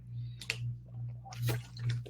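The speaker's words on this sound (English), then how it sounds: "Let me just take a quick drink of water here." A person taking a quick drink of water near a microphone, a few wet sips and swallows in short bursts over a steady low electrical hum.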